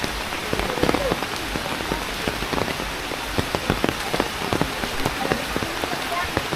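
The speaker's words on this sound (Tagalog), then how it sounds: "Sana hihinto yung ulan." Heavy rain pelts a surface nearby with dense, continuous patter and sharp individual drop hits, steady and loud throughout.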